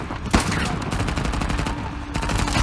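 Gunfire in the video game Uncharted: The Lost Legacy, loud and dense, with rapid overlapping shots and automatic bursts filling the whole stretch, with a brief lull near the end before the shooting resumes.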